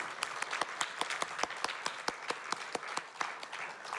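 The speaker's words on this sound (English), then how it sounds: "Can we give them a round of applause?" A round of applause at a community event at the Westport Library, steady overlapping claps from a modest audience with sharp individual hand claps standing out throughout.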